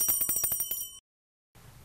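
A quiz team rings a bell on a Vietnamese community game show, a rapid metallic trill of about a dozen strokes lasting a second, then abrupt silence before room noise returns.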